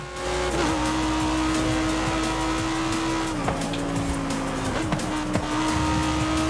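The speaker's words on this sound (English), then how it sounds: "the LaFerrari is definitely all-time in the noise department" Ferrari LaFerrari V12 hybrid engine in Forza Horizon 5, a loud sustained howl that rises through the revs with quick dips at gear changes, plus brief tire squeal.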